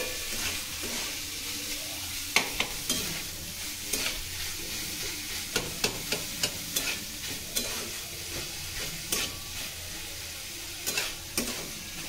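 Chhana made with vinegar, fried dry without water and stirred in a pan, giving a continuous close sizzle broken by repeated sharp scrapes and taps of the spatula, with no talk.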